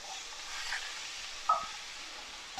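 Beef and onion stir-fried with noodles in a wok, a steady soft sizzle with faint tossing and one brief utensil clink partway through, close and alone without talk.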